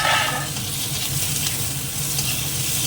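Onions frying in a pan with tomatoes just added, a steady close sizzle with light stirring running throughout, no voices.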